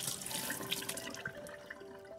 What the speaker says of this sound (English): you want to wash all the dirt off by rubbing it with your hands